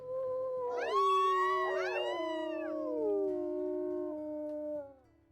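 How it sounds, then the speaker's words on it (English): A single long wolf howl from the video game WolfQuest rises, swoops through layered voices and slowly fades, loud and close with no talking over it. "so let's go ahead and do a howl"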